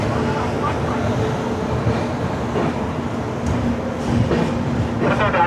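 Goa Express from Hazrat Nizamuddin to Vasco rolling through a station, a steady rumble of railcars with rhythmic wheel clatter and faint squeals, with faint talk underneath.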